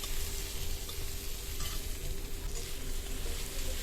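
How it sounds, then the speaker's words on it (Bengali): Chopped tomatoes and garlic sizzle in oil over a medium flame, a dense, steady crackling hiss that stays constant throughout, close and moderately loud with no talking. "মিডিয়াম ফ্লেমে টমেটোগুলো ভেজে নেবো"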